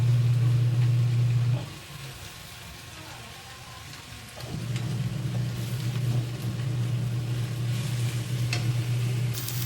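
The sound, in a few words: sautéing banana heart with garlic, onion, tomato and pork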